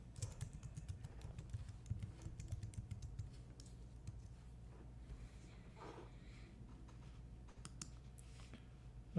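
Quiet typing on a computer keyboard, a rapid run of soft close clicks that thins into scattered keystrokes, heard alone.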